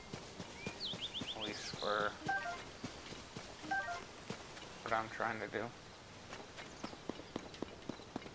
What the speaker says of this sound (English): And I will get Epona out. Because she's a better horse.